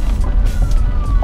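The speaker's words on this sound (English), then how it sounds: "Ambulance." An ambulance siren sounds briefly and loudly as it passes on a road, its tone steady over rumbling traffic noise.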